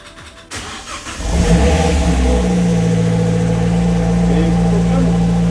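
An Abarth 124 Spider cranks briefly, catches and fires up, then settles into a loud, steady rev and idle close by, with a voice heard over the engine at the start.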